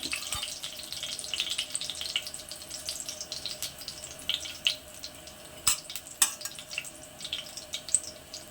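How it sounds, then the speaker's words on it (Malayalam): Mustard seeds popping in a hot pan, scattered sharp crackles and small pops over a faint sizzle, irregular and close, growing more frequent toward the end, no talk. "കടുക് പൊട്ടി,"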